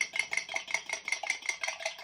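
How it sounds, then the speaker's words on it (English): A fork whisks two eggs in a bowl, tapping and clicking against the sides in a quick, steady rhythm, close and fairly quiet. "whisk them up pretty good. 2 eggs"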